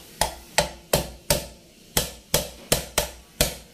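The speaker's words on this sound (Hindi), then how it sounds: "इधर हैमर मार के दबाया, और अभी इसको भी मारेंगे" Hammer strikes on electrical trunking as it is pressed into a 90-degree bend, nine sharp metallic knocks in an uneven rhythm, close and fairly loud with no voices.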